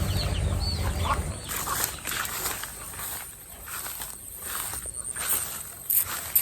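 Free-ranging chickens in a banana grove give faint, scattered clucks amid rustling footsteps and outdoor noise, with a louder rumble at the start.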